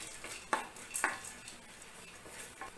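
Roasted gram, coconut and sesame being dry-roasted in a pan, with soft stirring scrapes and two sharp utensil clinks against the pan over a faint background sizzle.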